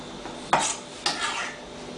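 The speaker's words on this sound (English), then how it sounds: "I'm going to take this spinach, and I'm going to give it a quick slice" Two crisp knife strokes, about half a second apart, cut through spinach leaves on a board for a chicken and watermelon salad, each a quick bright slice that fades under quiet kitchen background.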